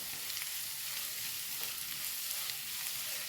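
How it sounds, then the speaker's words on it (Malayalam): Curry leaves fry and are stirred in a pan for an egg fry, giving an even, continuous oily sizzle with no talk. Faint scrapes of stirring run through it. "ഇതിലേക്ക് കരിവേപ്പില ചേർത്ത് കൊടുക്കേ ഇളക്കി കൊടുക്കാം"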